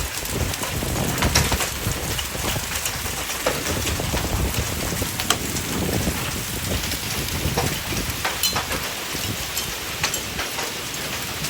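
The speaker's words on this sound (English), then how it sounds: "Hopefully that's deflecting some of the hail away from it." Hail falls hard and continuously during a spring hailstorm in Franklin, Tennessee, a dense patter of many small impacts clattering on surfaces and trees near and far, with no voices.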